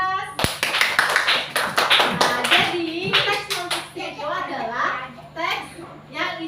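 Children in a classroom clap for a classmate, a burst of sharp close hand claps that thins out and gives way to kids' voices chattering over the last few claps.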